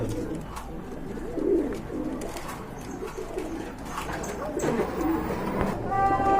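Pigeons coo in soft low repeated rolls at a pigeon farm, close and continuous, with a murmur of background activity.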